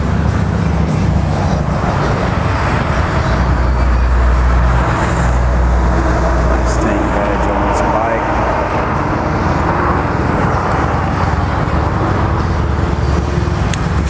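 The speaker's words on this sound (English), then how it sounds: "It's got some upgraded mufflers, so it's got a real good sound to it." A Harley Davidson Sportster 1200 Custom XL1200C with upgraded mufflers runs close by, giving a steady, deep, throbbing low rumble that holds without pause for the whole stretch.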